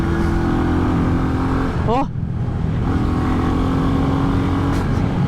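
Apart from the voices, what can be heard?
Royal Enfield Bullet 350 single cylinder engine roaring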